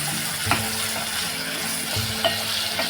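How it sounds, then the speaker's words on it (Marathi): Chopped onion frying with curry leaves and two chillies for an amaranth leaf vegetable dish, a steady close sizzle broken by a few light taps and scrapes of a spoon against the pan. "हा कांदा आहे तो आपण व्यवस्थित असा शिजून घेणार आहोत"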